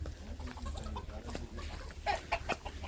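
A country chicken clucks close by outdoors on an island farm, a run of short throaty clucks and cackles with a louder burst near the end.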